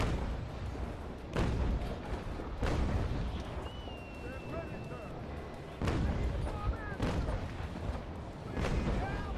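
Ship cannons boom in Naval Action, about five loud, heavy blasts at irregular intervals, each with a rolling tail, while someone talks over them.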